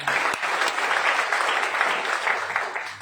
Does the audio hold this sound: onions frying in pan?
no